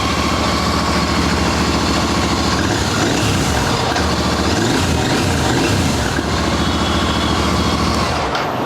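A stock superbike engine idling steadily and loudly, a continuous rough rumble with no talk, among bikes such as a BMW S1000RR, Hayabusa, Triumph 675 or Z900.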